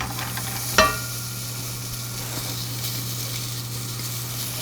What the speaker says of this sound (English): So now we'll go ahead and add in the onions.